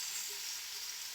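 Potato and snake gourd sizzle steadily as they fry in a pan, a soft continuous hiss at low level with no voices.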